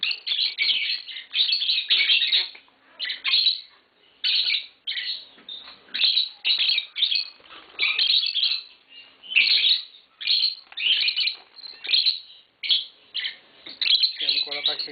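A pair of green Fischer's lovebirds chirps and sings up close in loud, shrill bursts of rapid twittering and squawks, broken by short quiet gaps throughout.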